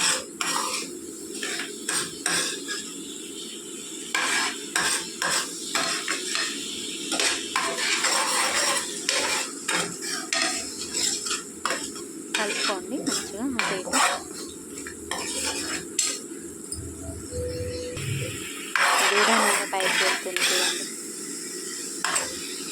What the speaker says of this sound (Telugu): కొద్దిగా చింతపండు వేయించుకుంటున్నానండి